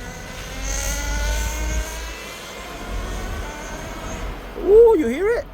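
A Kyosho USA-1 nitro RC truck engine runs in second gear with a steady buzzing drone, fairly close, while a voice speaks over the end of it.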